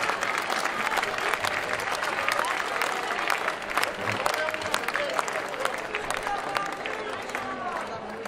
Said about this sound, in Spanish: Un aplauso lento.